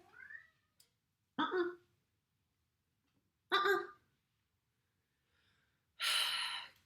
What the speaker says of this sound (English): Cats are just more trouble than they're worth when there's yarn around